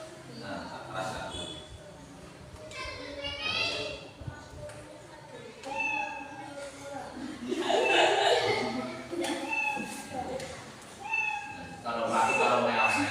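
Repeated cartoonish cat meows play as a sound effect during a primary-school coding lesson, mixed with children's chuckles, laughter and a teacher's talk in a classroom.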